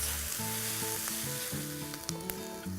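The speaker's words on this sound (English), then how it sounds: "Give that a good stir around, coat it in the lovely spicy oil" Onions sizzle and crackle steadily in hot spicy oil in a Le Creuset pot while being stirred for beef keema, a close, continuous frying hiss with occasional sharper pops and no talking.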